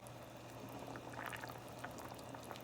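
Salmon simmers gently in coconut milk sauce in a pan over low heat, a faint, steady bubbling with a soft low hum beneath it and no speech.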